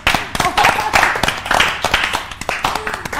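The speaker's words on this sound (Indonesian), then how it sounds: "Tepuk tangan buat saya Erika dulu dong." A small group claps for the host in a studio setting, sharp distinct hand claps in a loose, uneven rhythm, close and fairly loud, with faint voices underneath.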